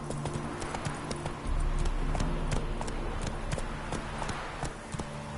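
Roach, a horse in a PS4 video game, gallops with a steady, rapid clip-clop of hooves over a low rumbling background, growing heavier partway through.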